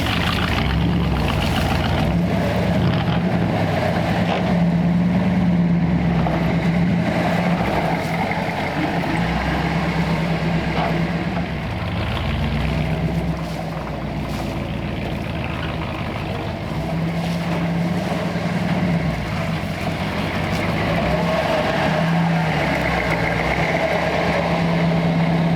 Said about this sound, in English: we successfully drove the Forgotten 39 hot rod